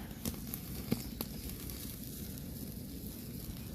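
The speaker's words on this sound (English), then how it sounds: "Yeah, see, there's that sizzling on that other side there." Steady crackling sizzle of pork chops on a wood-fired grill, a continuous hiss with a few sharp pops near the start.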